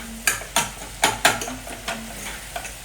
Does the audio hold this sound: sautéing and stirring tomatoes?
yes